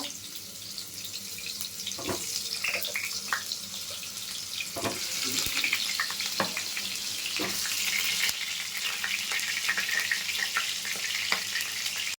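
Potatoes frying in hot oil with salt and turmeric give a steady, moderate sizzle and crackle. A few sharper clicks and clatters from a utensil break in at intervals, and no one speaks.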